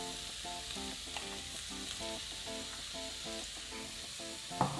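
Peas tipped into a pan with tomato paste for a vegetable quinoa dish, frying with a steady close sizzle and a sharp clack near the end, with a faint tonal pattern underneath.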